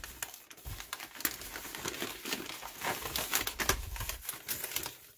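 Packing paper around boxes of jumbo resin crochet hooks crinkles and rustles continuously up close, with no talking.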